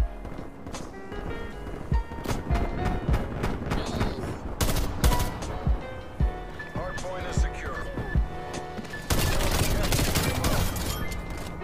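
Gunfire from an AUG rifle in the video game Call of Duty: Black Ops Cold War, with loud bursts and rapid shots scattered across the clip, mixed with game effects and voices talking.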